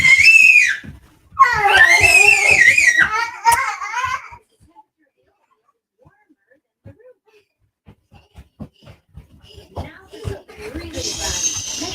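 Young girls screaming indoors at home, several shrill, wavering high-pitched shrieks in the first few seconds, then a quiet stretch with scattered small noises before more squealing and childish chatter near the end.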